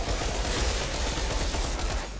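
Rapid gunfire in a video game rattles as a dense, continuous burst of shots, loud and close, running steadily for a couple of seconds.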